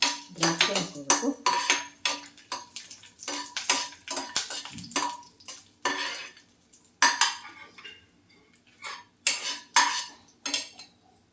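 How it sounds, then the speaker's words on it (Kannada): Cashews fry in a pan until golden while a spoon stirs them, giving repeated close clatters and scrapes of metal on the pan in uneven bursts, with only faint sizzling beneath. "ಗೋಡಂಬಿನ ಗೋಲ್ಡನ್ ಕಲರ್ ಬರೋವರೆಗೂ ಫ್ರೈ ಮಾಡ್ಕೋಬೇಕು."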